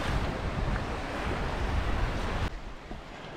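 Sea waves break and wash in steady broadband surf with wind buffeting across it at the Pilsupe river mouth on the Latvian coast, loud and close, then dropping abruptly to a quieter rush near the end.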